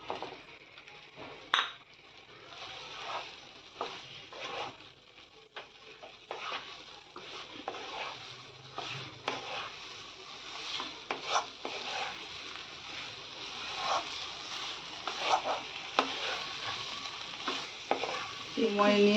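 Boiled eggs fry and sizzle in a pan of oil for Bengali egg curry, with a steady crackle broken by frequent scraping and clinking as a spatula stirs them against the metal, no talking.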